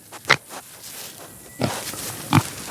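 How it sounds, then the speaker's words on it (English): Pigs give three short, separate grunts, fairly close, among farm animals during a dog training session, with no talk over them. "Well, silly pigs."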